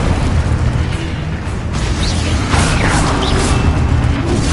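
Expulso and Confringo spell explosions in Hogwarts Legacy, a dense, continuous roar of blasts and rumbling bursts, loud and close, with no clear pause across the whole stretch.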